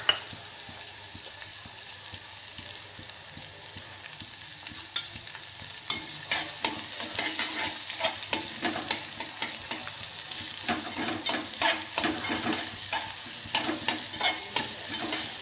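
Mustard seeds and onions fry and crackle in a pan, with steady close sizzling and repeated scraping stir strokes throughout.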